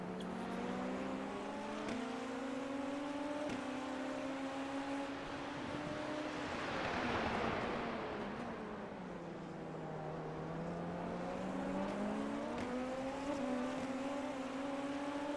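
An SF23 Super Formula race car laps Suzuka in iRacing, its engine a steady high-pitched whine that drops and climbs again as it brakes and accelerates, moderately loud and unbroken, with no voices.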